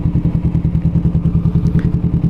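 A Honda CMX500 Rebel motorcycle running close by, its engine giving a steady, rapid low thumping pulse with light mechanical clatter throughout and no voices.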